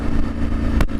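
A KTM motorcycle engine fitted with a decat exhaust pipe runs with a loud, continuous mid-pitched drone, broken by one sharp pop or crackle near the end.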